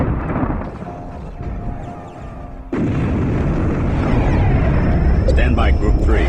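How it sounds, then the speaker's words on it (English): Missiles fire at a destroyer in the space strategy game Homeworld: Cataclysm: a loud, sustained rushing roar erupts partway through and keeps going over the quieter hum of battle beforehand. "Missiles on the destroyer."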